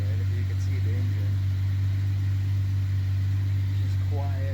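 A Jeep JK engine idling smoothly with a steady low hum, close up and unchanging, while someone talks over it.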